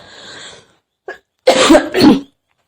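A person with a fever and cold coughs up close and loudly: a brief throaty sound first, then two heavy, rough coughs in quick succession.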